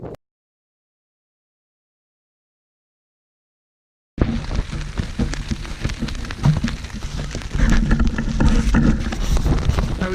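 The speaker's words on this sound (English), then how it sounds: "As you can see, Dartmoor's kicked in and is windy and raining." Wind and rain buffet a wild camp near Sourton Tor on Dartmoor. After about four seconds of silence, a loud, steady roar of gusting wind and rain noise begins and continues to the end, with heavy buffeting against the microphone.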